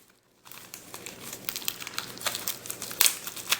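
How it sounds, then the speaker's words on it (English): Packing tape is pulled off the side of a mailer package, a close crinkling and tearing that rises after a brief silence, with sharp crackling snaps near the end. "Get this tape off the side"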